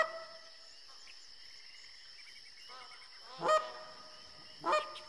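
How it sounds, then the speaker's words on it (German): Magpie geese in the hunting game theHunter Classic give two loud, close honking calls a little over a second apart, set against a quiet outdoor background with a steady insect-like hum. "Ah, die Gänse kommen von oben."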